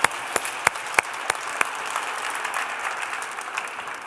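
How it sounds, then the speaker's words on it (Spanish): Audience applause at a live cooking show, opening with a few sharp, distinct claps that quickly merge into a steady wash of clapping from the crowd. "Les pido, por favor, que este aplauso se extienda también a Sergio Sacchettoni"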